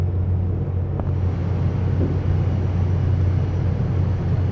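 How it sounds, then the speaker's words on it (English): A massive ship engine runs in the engine room in Seafarer: The Ship Sim, a steady, loud low drone with a constant hum that holds evenly throughout. "It's a massive engine."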